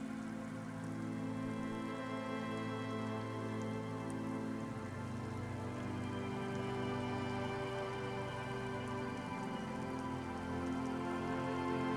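Steady rain falls through a coastal breeze near reeds at a cape's end in the game Disco Elysium, a soft, even wash of patter layered over a low sustained musical drone, quiet and unbroken throughout.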